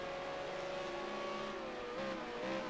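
A V8 Supercar engine drones steadily at racing pace, its tone wavering and dipping briefly as the driver misses a gear, then picking back up, heard alone without talk.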